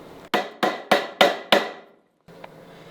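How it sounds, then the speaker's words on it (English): Five loud, evenly spaced hammer blows drive a nail into a wooden trim extension piece beside a new picture window in a shop, each strike ringing briefly before a pause and a faint knock. "I just put a nail up into this extension piece here"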